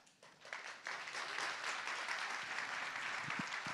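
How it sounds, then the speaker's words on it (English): Audience applause at a CPAC Japan 2022 conference session, a dense, steady wash of clapping from a large crowd that swells early and holds throughout, with a few low thumps near the end. "I give him a big round of applause once again"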